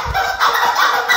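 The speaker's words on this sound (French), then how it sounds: "dans leurs chaussettes ils ont des poulets qui font des bruits" Toy chickens hidden in socks squawk as feet move, giving loud gobbling, clucking fowl noises in quick bursts over about a second, with no talking.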